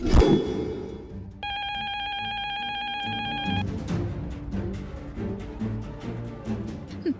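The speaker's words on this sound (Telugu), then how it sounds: "ఫోన్ వస్తుంది." A telephone rings in one sustained electronic trill lasting about two seconds, then stops, leaving quiet background sounds.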